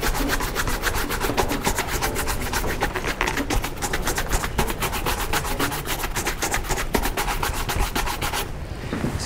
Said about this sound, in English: we will use a horsehair brush to brush off the excess creams and waxes